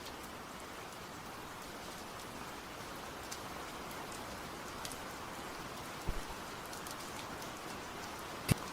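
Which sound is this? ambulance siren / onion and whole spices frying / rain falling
rain falling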